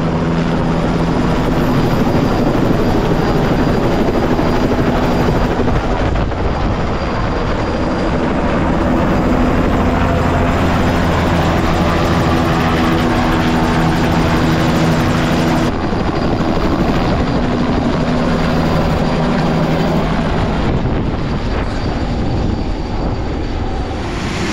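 A crop-spraying helicopter drones loudly and steadily nearby, its rotor thrum constant for the whole stretch with no voices.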